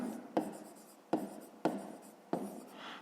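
Chalk or marker writing on a board during a fifth-grade maths lesson: four sharp stroke onsets followed by scratchy scraping, quiet and close, with no talking.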